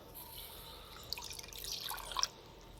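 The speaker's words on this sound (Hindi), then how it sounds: "ये कढ़ाई में जाएगा पानी, थोड़ा सा" A little water poured into a wok (kadhai) for potato curry, a faint, close splashing and trickling that builds over about a second, then stops.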